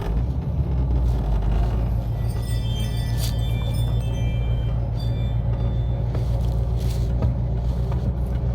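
An Oldsmobile with no brakes driving slowly toward a shop; steady low engine rumble and drivetrain hum, close and continuous, with faint rattles and a few higher squeaks over it.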